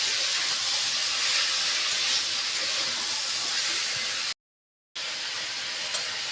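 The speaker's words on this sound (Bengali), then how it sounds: "এগুলো দিয়ে ভালো করে কষে নিচ্ছি।" Masala with ginger paste sautéing in a pan makes a steady, close hiss of frying that breaks into a short silence before the sizzle resumes.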